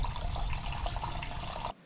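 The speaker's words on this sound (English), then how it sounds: "there's some hot water finally coming in" Hot water running steadily from a household tap during a recirculation pump test, a continuous close hiss and splash that cuts off abruptly near the end.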